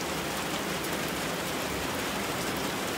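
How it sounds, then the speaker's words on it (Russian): Steady, dense rain patters continuously on a gazebo roof nearby, a broad even hiss with no voices. "Дождик захватил меня в беседке."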